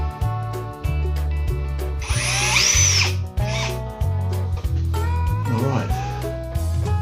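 A power drill drives screws into the pre-drilled back plate of a drawer kit in several loud, close whirring bursts. Short pauses and rattling handling noises fall between the bursts, and a brief high whine rises partway through.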